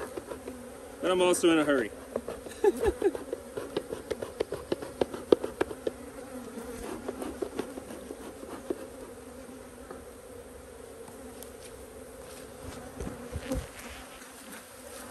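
Honeybees buzz around a hive box as the hive is opened and expanded, their hum steady beneath sharp knocks and taps, with a voice speaking briefly near the start.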